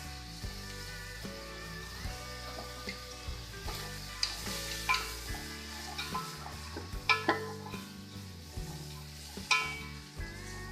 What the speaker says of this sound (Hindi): थोड़ी देर के लिए फ्राई करेंगे सारी सब्जियों को